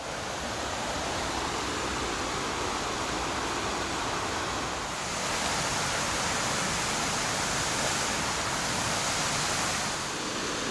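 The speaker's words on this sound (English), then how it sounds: "See the creek roaring." Creek water roars steadily and loudly close by as it runs down a chilly creek bed toward a tall waterfall, a dense unbroken rush of white noise with no voices.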